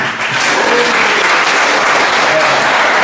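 Audience at a Nikon On The Road event in Solo applauding, a steady, loud wash of clapping from many hands filling the space without a break.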